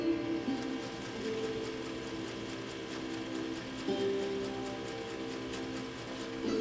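A vintage 1.5 amp Japanese Viscount Model 929 sewing machine stitches through denim at about 12 to 15 stitches per inch, giving a steady, fast mechanical whirr with regular ticking that runs close and alone throughout.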